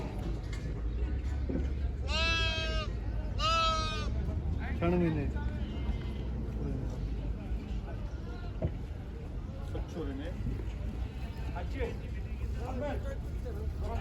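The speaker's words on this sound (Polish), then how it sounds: "O, tak jak tutaj kozy i owce." Goats and sheep at an animal market in Al Ain give two loud, close wavering bleats, then more scattered softer bleats, over a steady low background rumble with someone talking.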